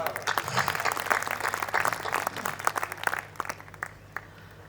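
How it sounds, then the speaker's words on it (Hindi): Audience applause at a Hindi poetry recital (kavi sammelan), a dense crowd of clapping that fills the space and gradually thins toward the end. "तालियां बजाकर एहसास दिलाइए मुझे।"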